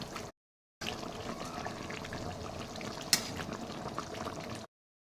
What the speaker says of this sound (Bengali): ফুটে উঠেছে, মাছগুলো দিয়ে দেবো।